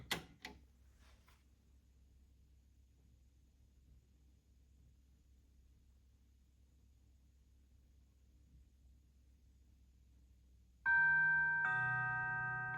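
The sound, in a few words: Seak music box gong chime in mourning mode without music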